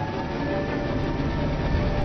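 A train's steady, droning rumble rolls on evenly throughout, loud and unbroken, with no one speaking.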